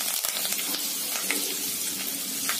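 Curry leaves dropped into hot oil with fried fenugreek seeds for homemade kadhi: a steady, bright crackling sizzle with soft pops, close and moderately loud, running continuously without talk.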